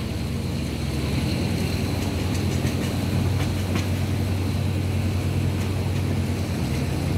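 Train 313 from Bangkok to Ban Phachi is shunted, its rolling rumble and low mechanical drone steady and close, with faint metallic clicks from the wheels and couplings.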